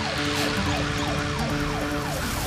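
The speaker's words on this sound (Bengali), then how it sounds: "এই কি, পুলিশের গাড়ি এখানে কেন?" A cartoon police car siren wails continuously with a repeating rising and falling sweep, loud and steady throughout, heard alone with no talk.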